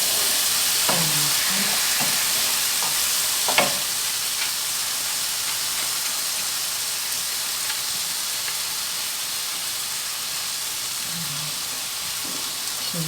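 Rice sautéing in a pan gives a steady, close frying hiss that holds level throughout, with a few faint stirring clicks early on and near the end.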